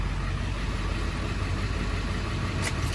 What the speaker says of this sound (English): You can leave the truck running